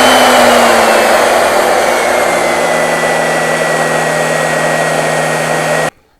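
A CNC router spindle runs steady and loud, a high whine with harmonic tones that drift slowly in pitch as it holds speed, then cuts out abruptly near the end.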